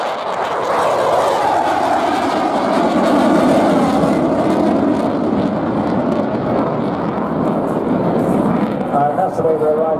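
A Eurofighter Typhoon fighter jet sweeps past at an air display, a loud broadband roar that swells and holds steady for several seconds before easing slightly toward the end.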